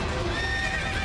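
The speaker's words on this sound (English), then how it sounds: "We have a horse, it looks like." A horse whinnies in the video game Okami, a brief, steady whinny heard at close range with no talk over it.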